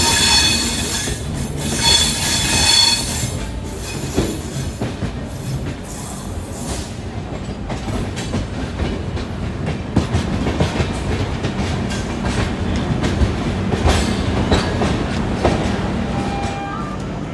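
The Darshan Express, a passenger train, runs on its rails with continuous loud wheel rumble, clickety-clack and recurring wheel squeals, heard up close throughout.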